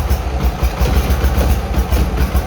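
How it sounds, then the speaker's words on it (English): A Bolens HT-23 lawn tractor engine with a leaking exhaust or blown head gasket idles steadily and close by, with a rough, pulsing low rumble and a faint puffing tick in its rhythm. "Exhaust leak, or is that the head gasket leaking?"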